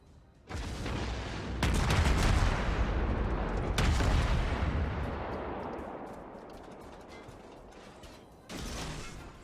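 Karlsruhe, a tier 4 German cruiser in World of Warships, fires its main guns: a series of heavy booming salvos with long rumbling tails, one after another, with a final shot near the end; no talking.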